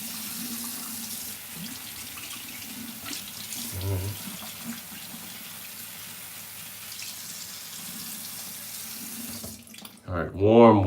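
Warm water runs from a bathroom tap into a sink during a wet shave, a steady close hiss that lasts several seconds before a brief voice and clatter at the end.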